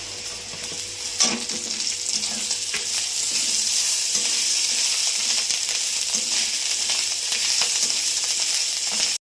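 Onion, garlic, ginger paste and chopped green chilli fry in hot oil with a loud, continuous close-up sizzle. A single metallic clink sounds near the start, with faint stirring scrapes throughout.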